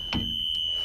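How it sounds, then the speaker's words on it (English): A school bus emergency exit door alarm emits a steady high-pitched electronic tone that holds continuously, with a couple of brief clunks from the door mechanism underneath. "And I'm going to open the door and make sure the alarm sounds."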